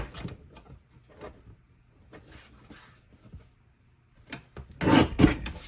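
A paper trimmer slices a strip of cardstock for handmade cards. Faint sliding and rubbing comes first, then a louder, close scraping cut near the end.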